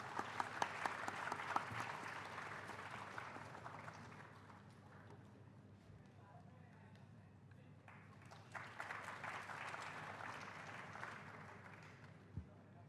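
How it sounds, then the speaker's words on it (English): An audience at a university freshers' induction program applauds in a quiet, distant hall, with clapping swelling at the start, thinning mid-way, then rising again, a few louder isolated claps near the end. "Everyone, please have a big round of applause."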